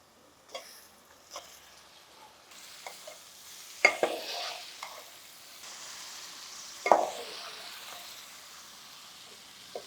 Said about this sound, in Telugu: ఇప్పుడు గరం మసాలా, పసుపు, చికెన్ వేసేస్తున్నాను అందులో